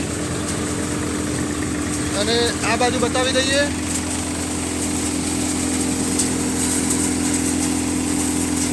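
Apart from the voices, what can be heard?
tractor-driven Param thresher basket model running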